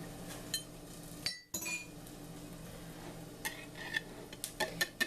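A spoon scrapes sour cream from a plastic tub, with light clinks and scraping strokes, quiet and close, coming in scattered bursts and clustering in quick taps near the end.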